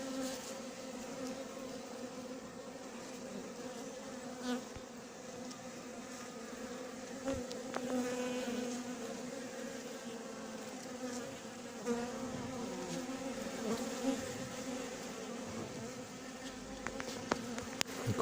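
A crowd of black honeybees clusters together while feeding, giving off a continuous steady buzzing drone with faint rustles and small knocks throughout.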